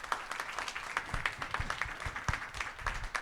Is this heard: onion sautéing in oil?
no